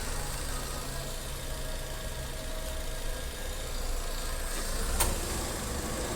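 Car engine idling steadily with the air conditioner switched on, a low, constant hum close by that holds unchanged, with a brief faint click near the end.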